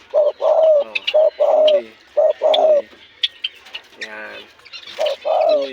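Pigeons coo in repeated throaty, close-up bursts at a pet keeper's coop, with a man's short spoken interjections between the calls.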